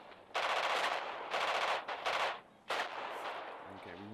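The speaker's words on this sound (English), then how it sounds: "Firing on approaching infantry." Machine-gun fire on approaching infantry in the Radio General war game, several loud sustained bursts of rapid automatic shots separated by short pauses, with no talking.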